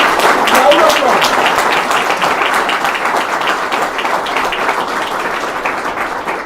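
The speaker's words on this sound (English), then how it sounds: "Let's congratulate the winner. Round of applause." A crowd gives a round of applause to congratulate a winner at an ophthalmologists' event, steady clapping that eases slightly as it continues, with voices faintly mixed in.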